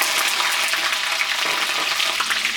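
Green chillies and dried red chillies hiss and crackle steadily in hot oil with mustard seeds, a dense, even sizzle close up with no voices.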